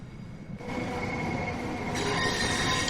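A London Overground electric train in Train Sim World 2 runs under power, a steady rumble with high wheel squeal and a rising hiss as it accelerates, continuous and close.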